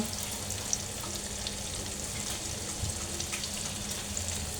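Garlic and ginger paste frying in a pan, a steady close sizzle with faint stirring, constant and even throughout with no talking.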